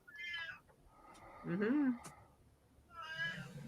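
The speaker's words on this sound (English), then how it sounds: "Give me another meow of approval" A cat meows several times, with a short chirpy call, a louder drawn-out meow in the middle and another at the end, close by, with a person murmuring briefly.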